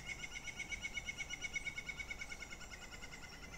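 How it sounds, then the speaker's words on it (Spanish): An Iberian green woodpecker calls near a river on an April afternoon walk, a series of repeated, fairly faint notes in a steady rhythm over a soft background hiss of water and open air. "Ese que suena es un pito ibérico."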